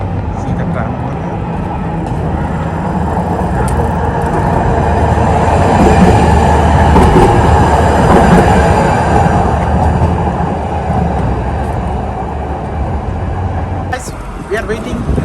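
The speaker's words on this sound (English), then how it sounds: "See the tram." A tram rolls past with a steady loud rumble of wheels and rails, swelling as it nears and then fading. Occasional speech is faintly heard over the noise.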